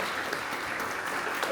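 Audience applause at the close of a literary talk in a library in Valparaíso, a dense steady wash of clapping that fills the whole moment without pause, loud and close, with no voices standing out.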